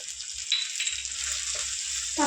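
Ginger garlic paste with a little turmeric frying in a pan, giving a steady close sizzle with faint stirring scrapes now and then.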